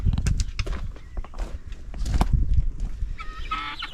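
Chickens and other assorted farm fowl cluck and call near scattered feed, mixed with shuffling footsteps and movement, busy and close, with a few sharper honking or squawking notes toward the end.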